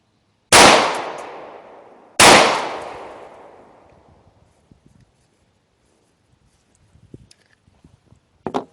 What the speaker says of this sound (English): Spear Gold Dot's going in first. Then following shots will be Federal aluminum case.